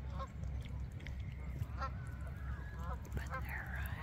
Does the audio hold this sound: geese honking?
yes